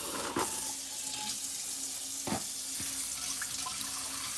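Hot water running from a kitchen tap to soak skewer sticks, a steady close hiss of flow with a few brief splashes and clinks, no talking.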